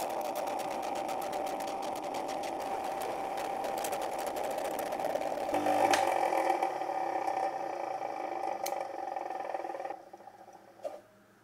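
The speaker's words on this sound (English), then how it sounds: "we're just going to clean those up on the wheel, and that's also going to deburr the edges" A spinning wheel whirs steadily as glue-spilled wooden discs are cleaned and their edges deburred, a close mechanical hum with small scraping contacts that ends with a brief clatter and stop.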